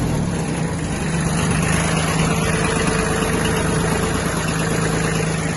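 A Kubota B1502 Japanese compact diesel tractor engine idles steadily up close, with a constant low rumble and rattle throughout.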